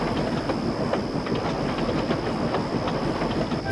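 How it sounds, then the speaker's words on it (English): A train rumbles steadily over a railway bridge, a dense continuous roar of wheels and wagons with a faint rhythmic clickety-clack throughout, close and loud with no voices. "Presently, they rumbled over the bridge and onto the Fat Controller's railway"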